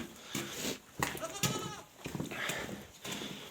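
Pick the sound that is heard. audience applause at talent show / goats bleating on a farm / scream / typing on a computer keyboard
goats bleating on a farm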